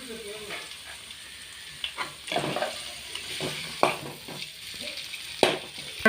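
Chopped garlic and a large onion frying in a pan for babycorn Manchurian, with a soft steady sizzle broken by several scraping stirs and clinks of a spoon, close up and with no talking.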